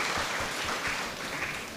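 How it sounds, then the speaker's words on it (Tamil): An audience at a public gathering in Kilinochchi claps in a steady, moderately loud round of applause that fills the whole moment without talk. "பெரிய கரகோஷம் ஒன்றை எழுப்பி அவர்களுக்கான நன்றியை தெரிவிக்கிறோம்."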